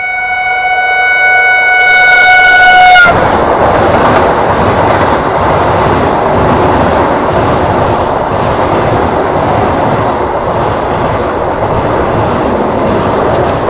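An Indian express train rolls loudly along the rails with a steady, roaring rumble and rattling wheels, a high tonal whine fading out in the first few seconds.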